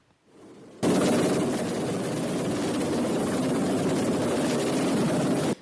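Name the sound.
rescue helicopter hovering overhead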